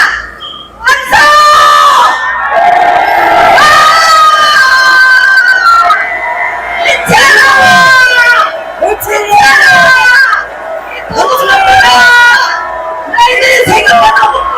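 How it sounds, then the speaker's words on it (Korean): A crowd at a Busan rally calling for an election fraud investigation roars and shouts in repeated loud waves, with a leader's amplified voice between the bursts. "함성!"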